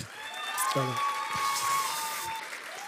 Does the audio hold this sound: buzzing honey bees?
no